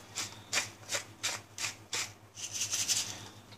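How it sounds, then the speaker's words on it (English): A hand-held pepper grinder cranks out a close, rhythmic series of gritty rasping twists, about six even strokes followed by a quicker, denser run of grinding at the end, with no talking. "And a little grind of pepper."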